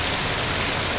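Unexpected rain falls in a steady, close hiss over a roadside with parked autorickshaws and passing buses, heard alone for a brief moment.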